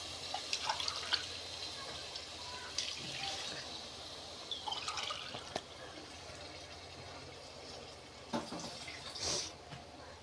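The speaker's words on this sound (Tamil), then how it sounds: "இந்த சைஸ் டம்ளரில் நாலு டம்ளர் தண்ணி ஊற்றிக்கலாம்" Water splashes and trickles in uneven bursts, poured from a tumbler into a pot for chicken biryani, with faint clinks and background noise.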